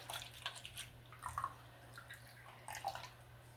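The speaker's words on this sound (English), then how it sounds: "We'll give that a rinse." Running water splashes faintly as a soap bar and brush are rinsed under a tap, with soft irregular drips and gurgles over a low steady hum.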